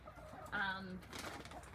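Pet chickens being given a scratch during a live session make a soft, fairly quiet clucking call near the middle, with faint background sounds before and after.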